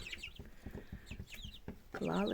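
Hungry young chickens that were just vaccinated against Newcastle disease cluck repeatedly in short, close calls, with faint talk in the background and a louder burst of clucking at the end.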